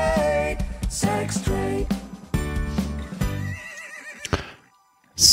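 A horse neighs and whinnies in several loud, close, repeated calls, with hooves clip-clopping and a faint jingle before the sound drops to near silence and ends in a final burst.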